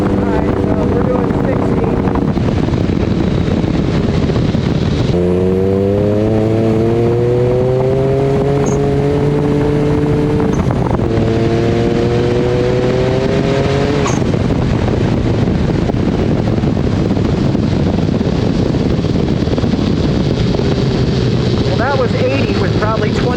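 A Mirage buggy with a 300hp+ tune drives on tarmac, its engine rising in pitch through repeated accelerations and gear changes, loud and close with heavy wind buffeting, while a person talks over it.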